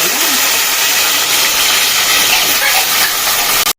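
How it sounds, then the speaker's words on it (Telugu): Brinjal pieces dropped into hot oil in a pan, a loud, dense sizzling hiss that holds steady close to the microphone for several seconds before cutting off abruptly, with no talking. "ఈ వంకాయలో ఆయిల్ వేసేసుకొని డైరెక్ట్ వంకాయలు వేసేసుకుంటాము"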